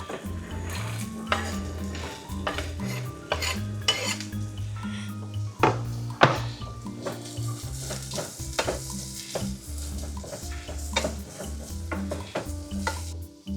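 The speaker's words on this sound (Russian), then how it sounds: "Итак, я взял 2 морковки и сейчас меленько порежем. Так, и отправляем жариться теперь." Finely chopped carrots fry in a pan, a soft continuous sizzle under repeated scraping and clinking strokes of a utensil stirring against the metal, close and moderately loud with no talk.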